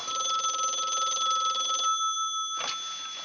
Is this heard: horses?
no